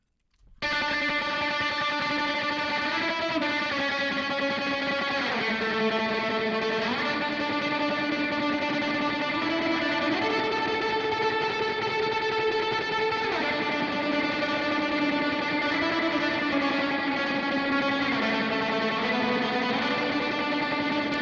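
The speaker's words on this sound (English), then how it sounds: "There's the guitar. It's just crying out for some spring reverb." Electric guitar sustains chords and melodic lines through the TENS JR. spring reverb plugin by Klanghelm, with a thick, washy, distorted tail. The playing is continuous and loud throughout, with no talk over it.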